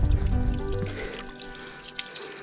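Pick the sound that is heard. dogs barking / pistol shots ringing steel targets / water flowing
water flowing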